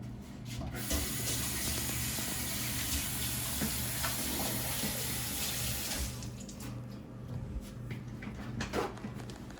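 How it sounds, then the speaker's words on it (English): Hands being washed under a running kitchen sink tap, a close steady splash and gush of water for several seconds, easing and turning patchier with small splashes toward the end. "And I'm gonna wash my hands."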